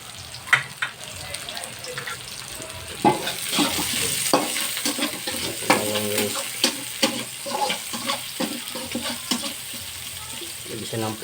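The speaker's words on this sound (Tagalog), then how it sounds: "Mix yung sibuyas or onion." Onion stirred and fried in a pan, a steady sizzle with scraping stir strokes and occasional clinks throughout, close and moderately loud, with a faint watery trickle in the background.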